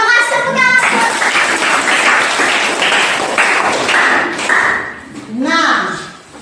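Students in a junior high school classroom clap together in a sustained burst of applause lasting several seconds. Voices are heard just before the clapping starts and again as it fades.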